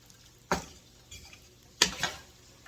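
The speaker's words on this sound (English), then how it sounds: "Get that stirred around" Two spoon scrapes and knocks as chili is stirred in a pot, with a softer clink between them, close and fairly quiet.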